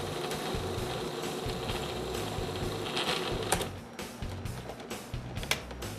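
A food processor pulses hazelnut dough, a close mechanical whirring drone with repetitive chopping rhythm that breaks into short, uneven bursts toward the end.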